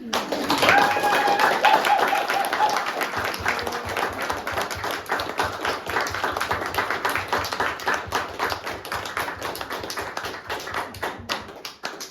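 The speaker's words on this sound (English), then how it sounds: "Let's give them a round of applause." Wedding guests applaud the newly married couple for about twelve seconds, dense rapid clapping that starts strong and gradually thins and softens toward the end, with a few voices faintly mixed in.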